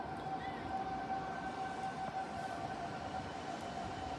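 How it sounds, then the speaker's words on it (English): A tornado siren wails steadily in the distance during a thunderstorm, a sustained tone over a broad rumble of wind and outdoor noise, with no voices heard. "We got tornado sirens."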